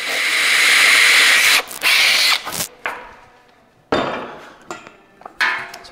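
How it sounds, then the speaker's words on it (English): A power drill whirs loudly in sustained bursts, drilling holes in a truck, stopping and restarting, with short clattering knocks between runs. "I thought I might drill a couple holes"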